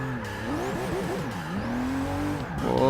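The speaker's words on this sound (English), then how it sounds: "Whoa, got a bit of slide out there." Tires squeal through a long slide as a racing car drifts in Forza Motorsport 6, the engine note rising and falling with wavering screeches and revving up again at the end, loud and close.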